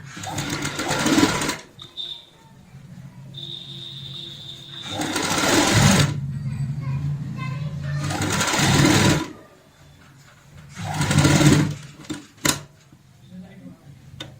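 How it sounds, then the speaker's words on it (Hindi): A sewing machine stitches a cushion cover along its piping in four long bursts of rapid, loud whirring, with quieter pauses between them. "अब हम इसको यहाँ पे ऐसे सिलाई लगाएंगे पाइपिंग के साथ साथ"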